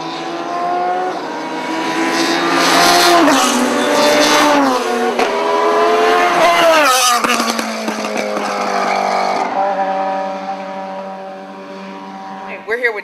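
A Radical SR3 race car runs on a racetrack, its engine whining high and loud through rising and falling revs as it passes and shifts, fading slightly toward the end.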